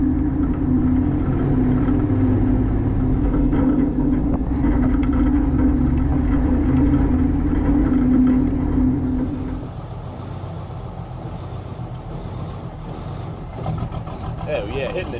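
A 1957 Mack B61 diesel truck engine runs with a loud, steady low rumble and hum that drops to a quieter idle partway through.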